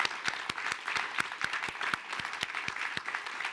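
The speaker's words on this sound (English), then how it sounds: "let's have a huge round of applause for 4 amazing people" A small audience claps for four departing guests at a live innovation-themed event, sharp individual claps in a steady patter from a modest crowd, moderately loud and close throughout.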